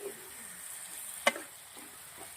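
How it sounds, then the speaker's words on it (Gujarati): Fenugreek and potato curry being stirred in a pan, a soft, low sizzle running quietly under one sharp scrape or clink of the spoon against the pan at the midpoint. "હવે આપણે મેથી બટાકા સરસ મિક્સ કરી દેવાનું છે."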